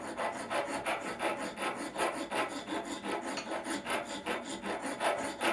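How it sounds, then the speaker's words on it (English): A half round file rasps a purple heartwood knife handle in long, even back-and-forth strokes, a dry gritty scraping that repeats rhythmically at close range with no voices. "I'm going to take the half round file, rasp this out a little bit the way I want it"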